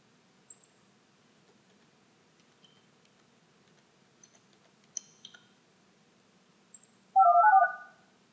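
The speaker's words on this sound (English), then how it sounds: "So we use SJ phone to dial out." Dialing out on an SJ phone softphone: a few faint clicks and short keypad tones sound sparsely in near silence, followed by a loud burst of tone at the end.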